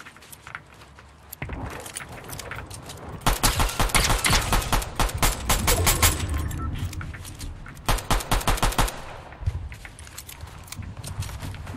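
Rapid bursts of gunfire from two players battling each other in Fortnite Chapter 5 Season 2, sharp cracks in clustered volleys, loud and fairly close, with quieter gaps between exchanges.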